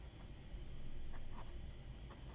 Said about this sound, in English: I don't like this nib. It's scratchy.